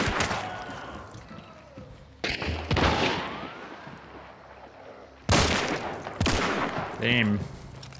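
A Vetterli 71 Cyclone rifle loaded with FMJ rounds fires in a video game battle. Loud, sharp shots come in separate bursts with echoing tails, mixed with other distant gunfire, and a voice speaks briefly near the end.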